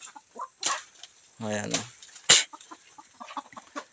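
Backyard hens and roosters on a rural farm give a few short clucks and squawks, including one louder burst, with people talking intermittently over a quiet background.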